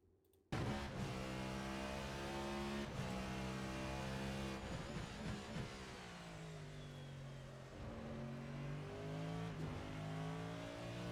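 Cadillac V-Series.R race car in a racing video game at the Motegi circuit, its engine droning loud and close with steady revs, rising in pitch through gear changes and dipping under braking across the lap.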